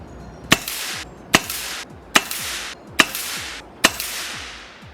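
An FX air rifle shoots JSB Knockout .177 slugs at targets, giving five sharp, loud cracks spaced roughly a second apart, each trailed by a short fading ring and a faint distant impact.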